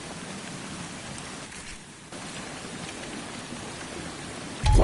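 Steady, hissing rainfall in a video game lands on surfaces in an even wash of noise with a brief dip midway, ending in a sudden louder burst at the close.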